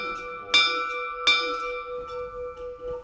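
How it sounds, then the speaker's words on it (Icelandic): Centuries-old church bell at Skálholt ringing, two clear resonant strikes a little under a second apart, each leaving a long humming decay that fades into a quieter ringing tail. "Hver veit nema að þetta verði klukkan sem að hringir inn jólin í Skálholtskirkju"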